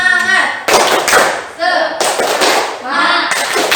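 A classroom of students performing the tepuk semangat clapping chant, loud and close, with bursts of rhythmic hand claps alternating with voices chanting together.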